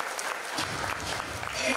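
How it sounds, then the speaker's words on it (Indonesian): An audience at a motivational seminar breaks into applause, a dense patter of many hands that rises steadily over the short stretch, with a voice talking over it. "Jadi ilmunya tepuk tangan dulu Bapak Ibu"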